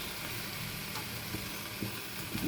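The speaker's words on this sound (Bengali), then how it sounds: "ঝোলটা ফুটছে" Egg curry gravy bubbling and simmering in a pan, a faint steady sizzle with soft pops.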